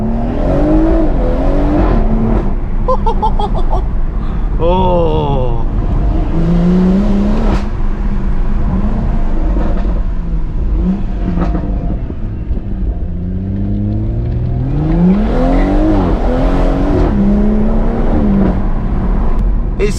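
BMW M140i with a new aftermarket exhaust accelerating on the road, a loud rising and falling engine drone with repeated gear-change sweeps, heard from inside the car with a brief exclamation from the driver.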